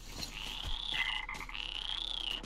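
A frog croaks in the game Metro Exodus, a steady series of loud, trilling calls repeating across the whole stretch with short gaps between them.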